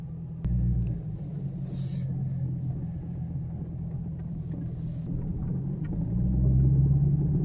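A black 2015 Chevy Caprice V8 rumbles from inside the cabin while driving, a deep steady low drone that swells louder toward the end as the engine pulls harder.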